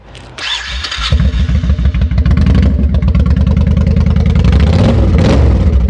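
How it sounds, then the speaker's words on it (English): A 1999 Honda VT1100 Shadow with Vance & Hines exhaust fires up and settles into a loud, close, lumpy V-twin idle with steady rhythmic pulses and a few throttle blips, with no voices over it. "Let's fire it up so you can hear those Vance & Hines."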